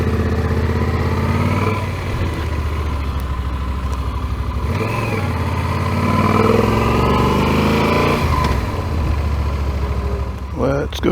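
A motorcycle engine runs steadily and loudly up close while the bike backs out at a campsite in southeast Ohio, with a rider talking over the rumble.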